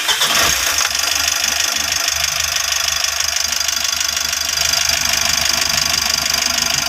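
Mitsubishi L300 Euro4 diesel engine starting after a fault code reset, a brief cranking burst that settles into a loud, steady idle clatter running to the end with no talk.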